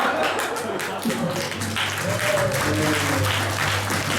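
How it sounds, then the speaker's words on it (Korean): A crowd applauds steadily at a school entrance ceremony after a new student's introduction, a dense wash of clapping with some murmuring voices underneath, holding at a constant level throughout. "박수."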